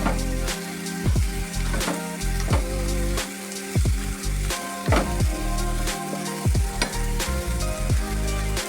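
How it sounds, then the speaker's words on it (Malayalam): Onions sautéing with salt in a pan for a sardine evening snack, a steady close sizzle with repeated scraping stirs of a spatula every second or so, no voices. "ഇനി ഉള്ളി ഒന്ന് വാടി വരാൻ വേണ്ടി നമുക്ക് കുറച്ച് ഉപ്പിട്ട് കൊടുക്കാം ഉപ്പിട്ട് നന്നായി ഒന്ന് ഇറക്കി കൊടുക്കാം"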